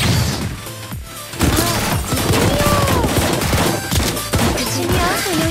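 Rapid gunfire rattles through a battle in the Blue Archive video game, with dense bursts and impacts layered over game music and effects, loud and continuous throughout.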